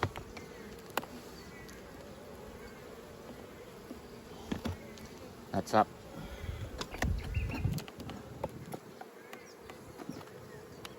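Honey bees buzz steadily around Flow Hive frames as a stuck frame is lifted free, a continuous insect drone with scattered clicks and knocks of handling and a brief spoken remark.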